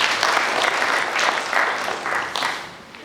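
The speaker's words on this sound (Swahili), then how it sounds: "Tuwapigie makofi ya halmashauri." An audience at a bank loan meeting in Wanging'ombe applauds, a loud sustained clapping that swells in waves and fades toward the end.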